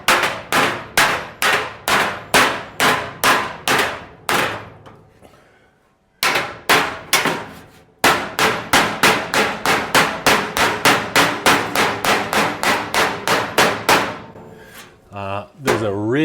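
A hammer beats the front fender of a 1937 Zephyr over a dolly in a home garage, a long series of loud, ringing metallic blows in steady bursts with brief pauses between runs.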